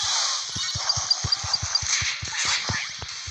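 Rapid series of short dog barks in quick succession in the video game Dan the Man, slightly synthetic and compressed, over a constant electronic background hum.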